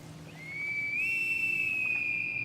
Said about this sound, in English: Then we hear a whistle like a bosun's pipe.